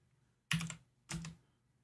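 Typing on a computer keyboard during a Photo Mechanic software session: two quick, close bursts of key clicks, about half a second each, in an otherwise quiet room.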